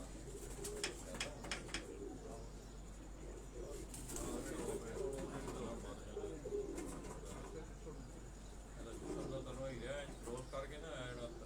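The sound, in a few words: pigeons cooing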